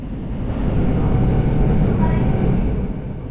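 A Korean passenger train pulled by a 7,600-class diesel locomotive runs along the track, a loud, steady rumbling roar with rolling wheel noise, heard close from an observation car.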